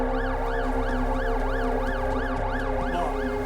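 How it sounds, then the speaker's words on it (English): An ambulance siren in The Alters video game wails in a fast, regular rising-and-falling sweep, loud and continuous over a low engine drone, with no talk. "Ambulance."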